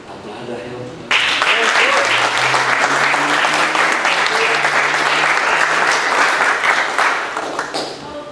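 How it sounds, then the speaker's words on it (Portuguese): Church congregation bursting into loud applause after a short spoken moment, the clapping starting abruptly and holding dense and sustained near the listener before easing off, with a voice heard around it. "Aplauda a Deus."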